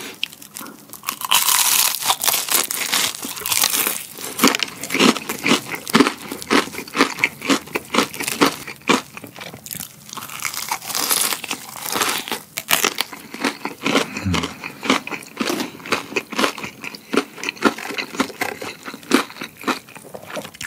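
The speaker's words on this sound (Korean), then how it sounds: "그래서 엄청 바삭한 소리가 막 빡빡 나지 않아요?" Crispy fried tomato chicken crunches loudly up close as it is bitten and chewed, with repeated sharp crackling bites and rustling between them, and no talking.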